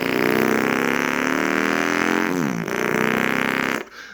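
Someone vocally imitates a Harley motorcycle engine: a loud, close, rumbling, sputtering drone that holds steady with a brief pitch wobble, then stops.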